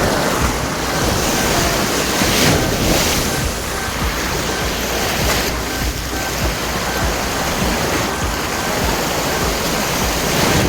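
A waterfall and fast river current roar loud and steady throughout, a dense, unbroken rush of water close by.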